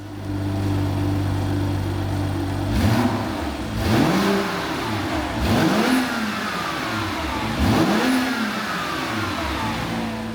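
A warm BMW M2 F87 engine turns over and starts, then revs loudly in three or four rising and falling bursts between idling, close by.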